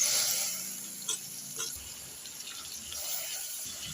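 Water splashes and trickles into a pan of cauliflower leaves and chana dal for a few seconds, a close, fairly quiet pour that tapers off.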